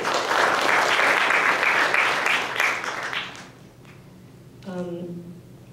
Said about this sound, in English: let's give another round of applause to Alisa Ripkin, whose poem that was.